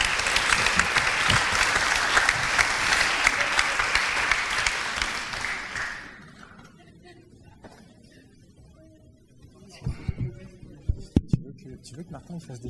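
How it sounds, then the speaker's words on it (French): An audience at a mock trial event applauds a prosecutor before closing arguments, a loud, full burst of clapping lasting about six seconds before dying away into quiet room sound and soft talk. "Je vous prie de l'applaudir."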